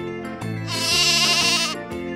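A sheep lets out one long wavering bleat, loud and close, with a steady low tonal backing underneath.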